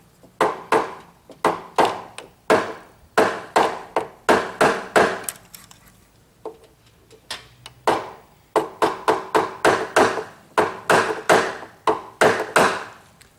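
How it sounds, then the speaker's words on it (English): Light hammer tapping a blunt old screwdriver to knock a glued part out of a cheap guitar: crisp, close wooden-metal taps in quick clusters of two to five, separated by short pauses, with no talking. "light hammer. I'm just going to tap it out."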